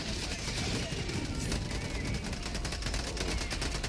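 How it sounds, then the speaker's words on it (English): Rapid, continuous semi-automatic rifle fire in Helldivers 2 crackles in a dense, steady stream of closely spaced shots amid loud battle noise. "Semi auto rifle."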